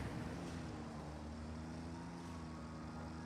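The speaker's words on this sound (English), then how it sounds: "My tractor, go back." Tractor engine in the video game Satisfactory, a steady low droning hum with a tonal whine, held evenly throughout with no talking.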